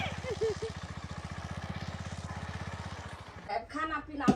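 A motorbike engine throbs steadily in a rapid pulsing rhythm while being ridden, with a voice speaking briefly over it toward the end.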